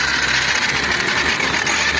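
A 2022 Honda Fan 125 motorcycle engine runs with a fault noise, a steady, loud, close mechanical drone with a rattling texture throughout.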